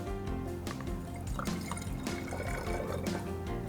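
Distilled vinegar pours steadily into a funnel with a continuous splashing trickle and occasional drips, close and fairly loud.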